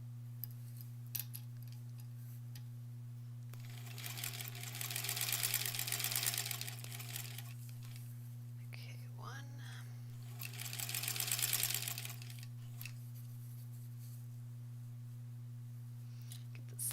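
A sewing machine stitches quilt border pieces for a granny squares quilt in two bursts of a few seconds each, set against a constant low electrical hum and quiet pauses with faint clicks.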